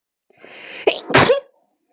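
A single sharp human sneeze, loud and close, with a short inhaled build-up before the explosive burst, set amid a tabletop role-playing game session.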